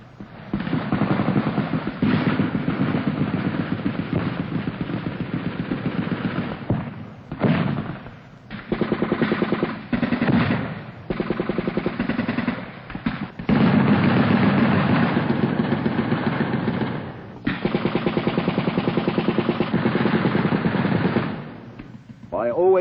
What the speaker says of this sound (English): Our return fire continues well into daylight.